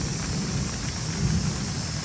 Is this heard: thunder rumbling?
yes